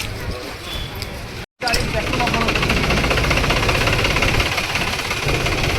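A tractor engine idles with a steady, loud knocking rumble; after a short cut, the chugging continues unbroken and close.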